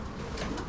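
Pigeons coo softly at a large pigeon loft, a short low murmuring call rising over a steady background hum, faint and fairly distant.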